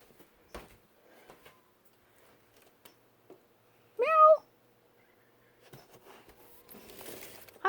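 A cat named Tony meows once outdoors, a single clear drawn-out meow midway through. It is surrounded by quiet background and scattered small clicks and taps.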